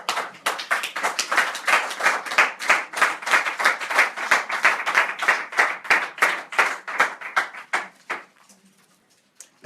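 A church congregation claps together in a fast, steady rhythm to acclaim the Lord, loud even beats that fade out and stop near the end.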